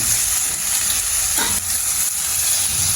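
Onions sizzle steadily in hot oil as they are added to a pan for idiyappam kothu, a continuous close frying crackle with a brief stirring scrape in the middle.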